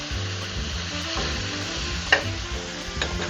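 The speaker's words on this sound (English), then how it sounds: "now we can add in our diced tomatoes" Diced tomatoes hitting a hot pan for Portuguese peas with chouriço, a continuous close sizzle and frying hiss with stirring scrapes and a sharp clink of a utensil against the pan, no talking.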